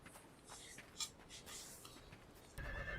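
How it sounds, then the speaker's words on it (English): A lone horse whinnies in the Frieren anime, a brief cry rising over quiet ambience, followed by a louder low rumble near the end. "Uh-oh, just a lone horse?"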